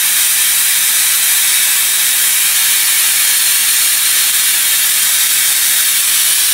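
A tuned spark-gap Tesla coil fires loudly and continuously, producing a harsh, steady buzzing hiss at close range with no talk over it.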